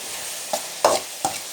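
Tomatoes frying in a pan for tomato rice are stirred in three distinct scraping strokes over a steady background sizzle, each stir close and fairly loud against the quieter hiss.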